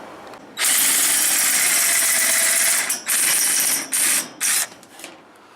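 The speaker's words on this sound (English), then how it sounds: "Alright, I got that drilled." A power drill bores through a rain gutter, one long loud whirring burst followed by two shorter bursts, with no talking.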